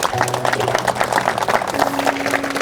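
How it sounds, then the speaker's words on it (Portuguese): Wedding guests clap together during the ceremony, a short burst of moderately loud applause with faint voices mixed in. "vamos aplaudir mais uma vez"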